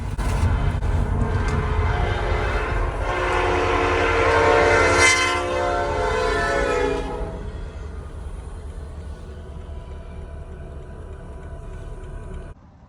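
A local freight train passes the Waddell Road crossing in Greenville, South Carolina, with loud horn blasts over a heavy rolling rumble for about seven seconds, then a quieter, receding roll of wheels.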